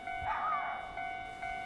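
A level crossing near Fushimi Inari in Kyoto rings out, a steady alarm bell tone heard fairly faintly at a distance over quiet street ambience.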